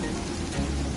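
Steady rain in the video game Terraria pours down, a dense even hiss with a low rumble underneath, continuous throughout the short stretch.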